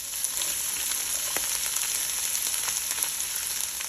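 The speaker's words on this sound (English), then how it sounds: "Now I'm just going to fry this up a bit here for about a minute or so" Vegetables and pimento pepper frying in oil for Guyanese Christmas rice, a continuous close sizzle with fine crackles and pops, steady and moderately loud, no voices.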